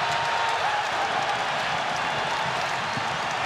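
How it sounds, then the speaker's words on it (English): A basketball crowd storms the court after Wisconsin upsets Duke, making a dense, continuous roar of cheering and clapping that stays loud and steady throughout. "And the crowd storms the court."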